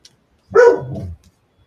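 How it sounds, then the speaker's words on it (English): A single dog gives a short, loud bark, a brief burst with a slightly drawn-out tail, close by in an otherwise quiet indoor room. "The doggy."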